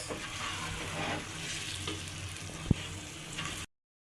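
Chickpeas cooking with masala in a pan give a soft, continuous sizzle while a spoon stirs them, with one sharp clink of utensil against the pan; fairly quiet and close.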